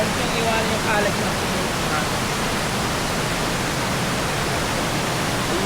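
A multi-tiered waterfall in the Mandalay Region roars as a steady, dense wash of rushing water, loud and close, with no breaks.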